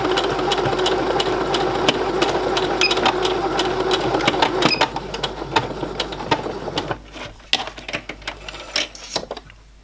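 A sewing machine stitches darts into a small vintage Barbie doll skirt, running in a steady fast mechanical whir that breaks into shorter stop-start bursts of stitching toward the end, close by with no talk.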